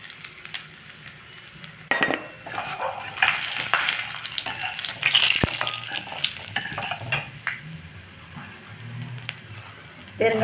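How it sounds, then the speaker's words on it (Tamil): Mustard seeds, chana dal, urad dal and asafoetida frying in oil for aval upma, a crackling sizzle with spoon stirring and clinks against the pan, and someone speaking over it. "இப்போ வந்து நான் அவல் உப்புமாவுக்கு எண்ணெய் வச்சு கடுகு போட்டாச்சு"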